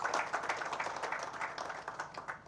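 An audience applauds a PostBank branch manager at a partnership launch event in Uganda, with dense, steady clapping of moderate loudness and a busy texture throughout.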